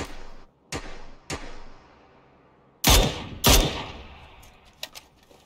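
Gunshots in the battle-royale video game PUBG: two sharp isolated reports, then two louder, longer bursts in quick succession, followed by a few fainter scattered shots, with quiet gaps between them.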